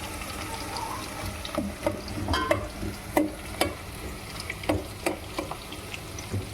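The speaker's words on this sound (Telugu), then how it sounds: "ఇవి అయితే కాసేపు ఫ్రై కావాలి." Chicken curry ingredients, including green chillies, fry in a pan with a soft continuous sizzle, punctuated by scattered clinks and scrapes of stirring at close range.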